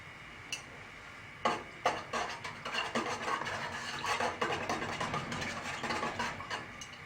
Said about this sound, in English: All the salt was kind of sitting in one spot, so I thought I would just stir it up a little bit